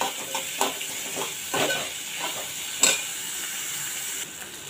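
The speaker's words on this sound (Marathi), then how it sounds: "आता कांदा जरा चांगला भाजून घेऊया मऊ होईपर्यंत" Onions frying in oil in a pan with curry leaves, a steady hiss and sizzle with intermittent stirring clatters, close and alone.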